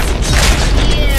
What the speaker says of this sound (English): Explosions. Didn't want that.